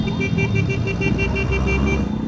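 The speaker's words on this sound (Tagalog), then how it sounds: "Busina, busina." Horns honk in a rapid run of short, evenly spaced toots as riders arrive at Batangas City Sports Center during a police Ride for a Cause, loud and close over a steady rumble of engines.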